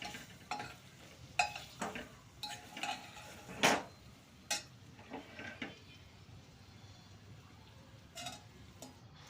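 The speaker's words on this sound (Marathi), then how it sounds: "पण आता ही कैरी मसाल्यामध्ये व्यवस्थित मिक्स करून घ्यायची" Raw mango pieces are mixed into a spice masala for methi amba, quiet scraping and clacking stirs of a spoon in a pot with a faint sizzle between strokes.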